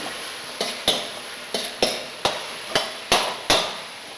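Sautéed Batangas tilapia stirred in a pan, with a regular series of sharp knocks from a utensil striking the pan about every half second over a faint sizzle, close and fairly loud.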